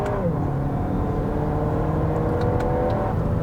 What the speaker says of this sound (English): just accelerating and testing the passing power, I'm a little underwhelmed by the sound for sure